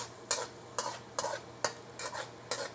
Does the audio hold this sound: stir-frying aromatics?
yes